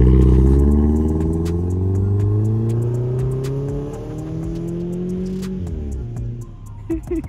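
A large RC car's small engine revs loudly, its pitch climbing and falling in long sweeps, with a rattling, clattering buzz from a cracked, loose exhaust and no talk.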